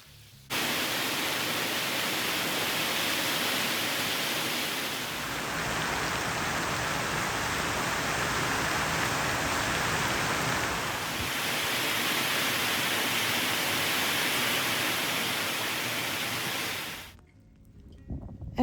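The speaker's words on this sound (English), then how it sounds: "the sky darkens and the rain pours down, quenching a thirsty garden" Heavy rain pours steadily onto a garden, a dense broadband hiss that holds loud and even for most of the stretch before cutting off near the end.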